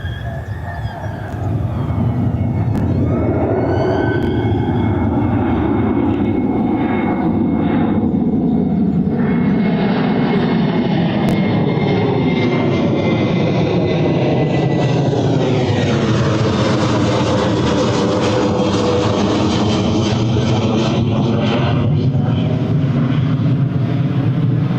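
A KLM Boeing 737-800 taxis at Birmingham Airport, its jet engines giving a loud, steady whine and roar throughout, with the pitch sweeping as it moves past nearby.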